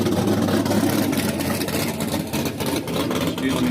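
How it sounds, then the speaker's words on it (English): A Mustang race car engine runs loud and steady throughout, a dense continuous mechanical roar with slight fluctuations in intensity. "Darn these race cars and their loud motors."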